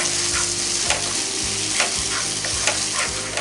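Lemon juice is stirred into a thick fish masala simmering in a pan, with a constant close sizzle and regular scraping strokes of a spoon.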